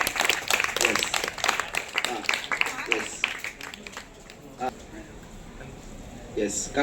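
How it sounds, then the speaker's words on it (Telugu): Scattered audience clapping at a student results felicitation, a loud burst that thins out into sparse claps over a few seconds, with talk mixed in. "క్లాప్స్ కొట్టాలి, క్లాప్స్ రావట్లే."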